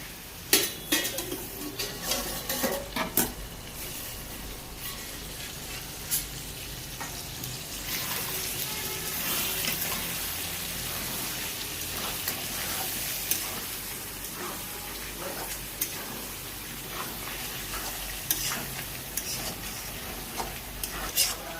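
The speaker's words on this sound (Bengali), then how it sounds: "লাউ দিয়ে দিলাম, আলুও দিয়ে দিলাম। এখন আবার কষবো।" Bottle gourd, potato and chicken sautéed and stirred in a pan for a chicken curry, with a utensil scraping and clinking against the pan over a steady sizzle throughout, loud up close.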